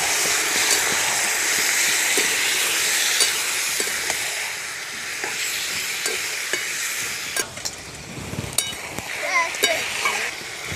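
Water poured into a hot frying pan of marinated chicken curry, giving a loud, steady sizzle and hiss with stirring scrapes and sputtering pops throughout.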